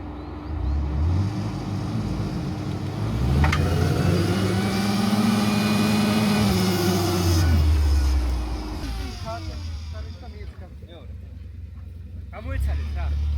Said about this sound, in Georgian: მიდი გაზი მიეცი.